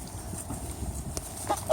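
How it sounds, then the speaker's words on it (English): Backyard geese give a couple of short nasal honks near the end of a brief stretch of low outdoor noise, close by and moderately loud. "They are geese after all."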